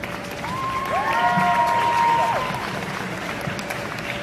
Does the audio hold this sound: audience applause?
yes